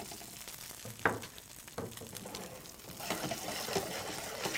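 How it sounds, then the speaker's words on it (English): Cooled polenta searing in a hot pan, a moderate close sizzle broken by a few sharp clatters as the pieces are set down and moved, growing busier toward the end, with nobody talking. "I'm just going to sear both ends to keep that moisture in the polenta"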